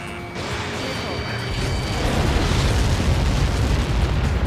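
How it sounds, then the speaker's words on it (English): A massive explosion from Helios projectile impacts in Ace Combat 7 rumbles loud and continuous, a deep roaring blast swelling and sustaining under faint radio chatter. "How many got caught in that explosion?"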